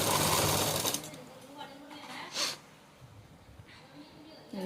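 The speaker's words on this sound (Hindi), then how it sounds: "ये आड़े तक सिलाई लगाओ सीधी दूर तक" A sewing machine whirs in a fast, close burst while stitching a small Laddu Gopal doll dress, then stops, leaving faint handling noises and breaths with brief talk.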